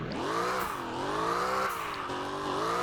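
Drift car in the Roblox video game sliding with traction control and ABS switched off, a steady engine drone with tyre squeal rising and falling continuously for under three seconds, no talking.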